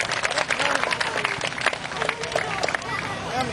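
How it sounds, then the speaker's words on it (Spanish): Dense, steady clapping from a crowd at a youth baseball awards ceremony, with voices and cheers mixed in throughout. "Vamos a darle un fuerte aplauso a ese joven"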